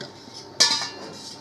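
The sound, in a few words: wok placed on gas stove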